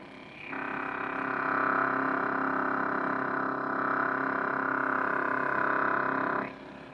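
A lightsaber hum from an NEC Igniter 2 sound board mounted in the chassis of a Saberforge Fallen hilt, a steady buzzing drone that ignites, sustains evenly for about six seconds, then cuts off.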